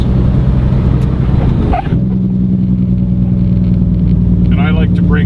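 A Caterpillar-engined truck downshifts with the Jake brake engaged, giving a loud rumbling engine drone that dips briefly at the clutch and then settles into a steady, deeper braking roar, with a voice talking over it.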